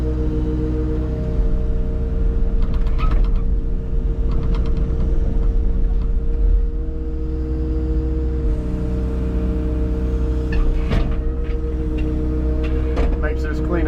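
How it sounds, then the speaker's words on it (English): A skid steer loader engine runs steadily nearby at a low, constant drone during tree-felling cleanup, with a few brief clanks and knocks over the continuous rumble. "I brought the skid steer bucket with me"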